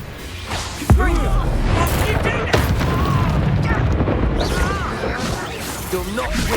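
Confringo fire-blast spells explode in a Hogwarts Legacy battle with a sharp booming hit and a second thud, plus whooshes. Voices shout and talk throughout the fight.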